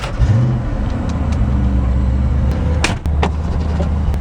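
A Foxbody Ford Mustang 5.0 V8 starts and rumbles at a steady idle after a short rising rev at the start, with a few sharp clicks and a brief dropout near the end.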